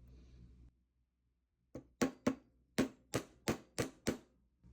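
Sharp metallic hammer taps on wire while flattening it for a ring, about eight blows in a fairly quick, uneven rhythm, sounding close and clear after a brief pause.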